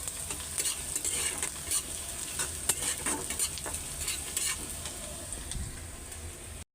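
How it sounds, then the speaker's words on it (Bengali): Bay leaf frying in hot oil in a pan as the base for a curry: a steady close sizzle with stirring and light scraping, plus a few utensil clicks, and no talking. "এই যে তেজপাতা দিয়ে দিলাম, তেল গরম হয়ে গেছে"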